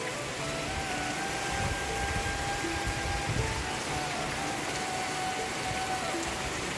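Heavy rain pours steadily onto the streets of Junagadh, a dense, continuous wash of hiss and patter that stays loud and even throughout, with no voices.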